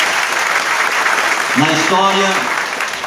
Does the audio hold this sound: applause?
yes